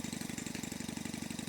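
A Stuart Turner Sirius marine steam engine runs at high revs, giving a fast, even mechanical chuffing pulse that repeats rapidly and steadily at close range.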